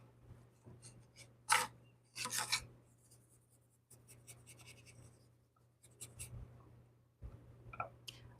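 A brush scrubs paint onto a wooden apple garland in short, dry scratchy strokes, quiet and close, coming in irregular bursts with faint background hum.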